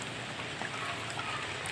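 Steady rain falls at a lakeside overlook in Maco, Davao de Oro, a dense even hiss of drops on surfaces with no pauses, moderately quiet and with no voices over it.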